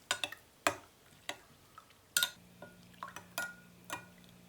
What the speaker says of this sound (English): So we're going to stir this together.